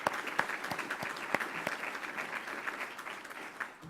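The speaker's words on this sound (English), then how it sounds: "Let's give them a round of applause for their support." Applause from an event audience honoring sponsors, a dense steady patter of clapping with a few sharper individual claps, moderately loud and fairly close, no voices over it.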